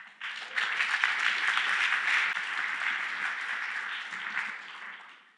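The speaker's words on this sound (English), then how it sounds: "Give him a round of applause." Steady audience applause at a conference lightning talk session swells quickly and holds for several seconds before tapering off, with no voices over it.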